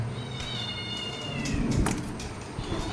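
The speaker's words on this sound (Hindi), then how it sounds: "साइड में वो हमनी के पोसल बिल्ली भी है देखी जा" Pet cat in a home meowing, a few drawn-out mews with a rising and falling pitch over household background noise, fairly close and clear, no talking.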